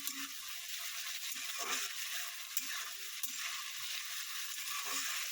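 Prawns sizzle and crackle steadily in a pan of hot oil as they fry for a Bengali vegetable chorchori, with occasional stirring clinks and scrapes over the continuous loud hiss.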